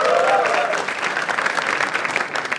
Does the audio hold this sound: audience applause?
yes